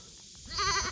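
Single short goat bleat, close and fairly clear, rising out of quiet farmyard background in the second half.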